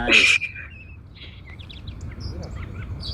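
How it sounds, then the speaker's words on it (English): Song sparrow at a backyard bird feeder, landing close to the microphone: one loud, sharp chirp right up close at the start, then faint scattered chirps and tweets further off over a low steady outdoor hum. "Here's a close-up of our song sparrow. As it lands on the mic."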